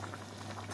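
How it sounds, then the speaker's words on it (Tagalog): A broth of cola mixed with white wine boils steadily in a pot, a dense, continuous bubbling and popping with a faint electrical hum beneath. "Kumulo na yung sabaw niya, yung coke na mayroong white wine."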